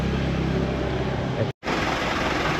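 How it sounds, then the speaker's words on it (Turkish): A bus engine rumbles steadily up close at Bali airport, a broad continuous drone that drops out for a split second and then carries on. "Otobüs geldi arkadaşlar bu arada."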